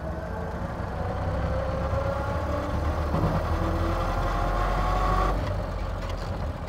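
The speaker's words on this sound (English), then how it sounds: "Now these old transmissions don't have synchronizers in them, so you do have to double clutch or just time the shift like that right there." The engine of a 1929 Ford Model A drones steadily as the car is driven, with mechanical whine rising and falling as the driver double clutches through a gear change, close and continuous without talking.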